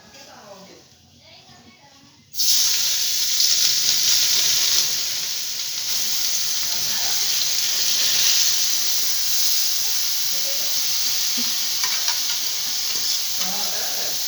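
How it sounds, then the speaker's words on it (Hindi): Grated carrots hit hot ghee in a kadai with a sudden loud burst of sizzling, settling into a steady, close hiss of frying that runs continuously, with faint kitchen clatter beneath it. "अब गाजर को छोड़ने वाले हैं घी में"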